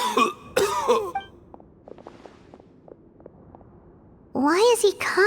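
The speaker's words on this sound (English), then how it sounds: "Why is he coughing so much?" A coughing fit from a male character in a Genshin Impact story cutscene: several short, dry, close coughs spread over a few seconds, between bursts of other voices, with faint footsteps underneath.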